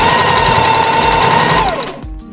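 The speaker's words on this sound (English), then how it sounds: "we're going to stitch this at 1/4 inch of a seam allowance all the way around" Sewing machine stitching a quarter-inch seam around a pants piece, a loud, steady mechanical whir that runs without a break and then winds down at the end.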